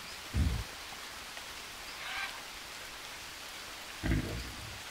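Rain falling in the survival video game Green Hell, a steady hiss of rainfall on surfaces with a few soft low thumps, fairly quiet and continuous.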